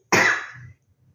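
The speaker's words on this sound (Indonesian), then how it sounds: "maaf, masih ada sisa batuknya" A single harsh cough from an adult speaker who is still recovering from an illness, loud and close, with a brief rasping tail before quiet.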